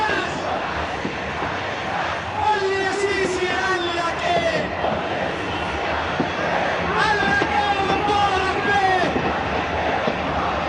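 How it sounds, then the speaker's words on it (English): A huge protest crowd in Tahrir Square, Cairo, roars continuously, with shrill whistles and cheering voices rising out of a constant wall of loud noise. "The noise here in Tahrir Square can be easily described as deafening"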